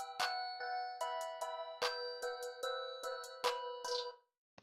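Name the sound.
dark ambient trap beat with basic clap pattern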